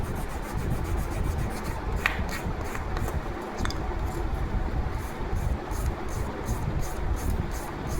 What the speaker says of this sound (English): Similarly, sand at the trailing edge of the fuselage extension.